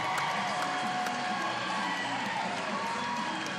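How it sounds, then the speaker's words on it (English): A stadium crowd at a swimming trials final cheers and applauds a women's 400 freestyle world record, a steady, loud roar of voices and clapping with occasional whoops. "We're going to take a moment for sure, hear the sounds of the crowd."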